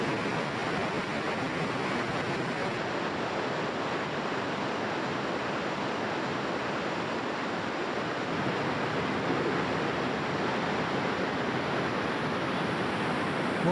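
A waterfall where rare swifts breed behind the falling water gives a constant, dense rushing roar, steady and unbroken, with no voices.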